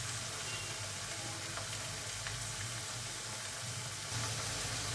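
Potatoes fry in a pan with a faint, steady sizzle under a low hum, continuous and without talk.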